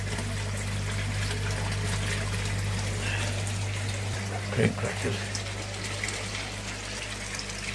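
A water pump for a fish tank runs with a constant low hum and a wash of trickling, gushing water, while someone talks briefly over it near the middle.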